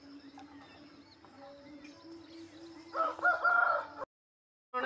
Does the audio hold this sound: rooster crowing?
yes